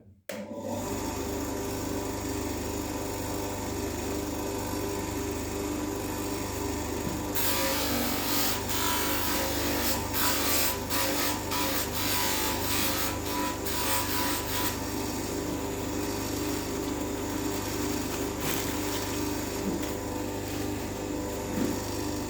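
A power tool runs steadily with a continuous motor hum while a knife handle is polished with beeswax, the rubbing becoming rougher and louder midway with gritty, fluctuating friction over the drone.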